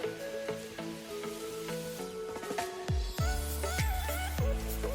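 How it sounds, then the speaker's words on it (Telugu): Spiced chickpea masala vadas dropped one after another into hot oil over a medium flame, giving a steady close sizzle with music playing over it and a few louder frying bursts toward the end. "ఈ వడలో మీడియం ఫ్లేమ్లోనే వేయించాలండి."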